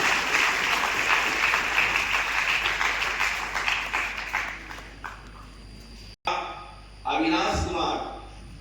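Hall audience applauding a topper student at a coaching centre's felicitation ceremony for intermediate and matriculation toppers, a dense steady clapping that fades over several seconds, then a brief gap and a short fresh burst.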